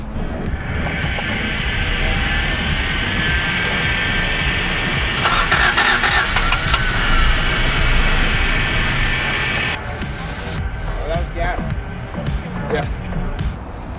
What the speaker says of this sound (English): We're gonna see how the car idles.